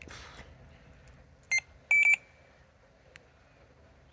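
Electronic carp fishing bite alarms at a lake fishery give a few short high-pitched beeps, one single, then a quick double burst, with fainter blips later, close and clear over quiet background.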